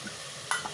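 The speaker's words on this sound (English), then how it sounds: "Stir that too very well. Let it fry for about 5 minutes in this" Washed, chopped lauki and potatoes sizzle in a pan while being stirred, a steady soft frying hiss with a brief louder scrape of the spoon near the middle.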